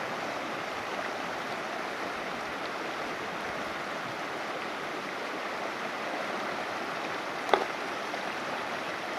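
A flowing creek or river runs steadily, a continuous even rush of water heard from nearby, faint and unchanging, with one brief click partway through and no voices.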